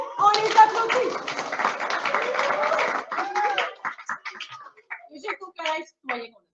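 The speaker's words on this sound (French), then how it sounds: "On les applaudit." Brief applause from a French school information-evening audience for newly introduced teachers, a dense burst of clapping mixed with children's voices that thins into scattered claps and chatter.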